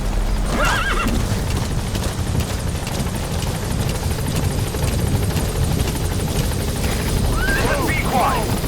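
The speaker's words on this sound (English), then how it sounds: "Support helicopter has arrived." Support helicopter from Metal Gear Solid 5: The Phantom Pain thunders steadily and loudly throughout, its rotor wash filling the scene, while a horse whinnies and hooves clip-clop nearby and voices are heard.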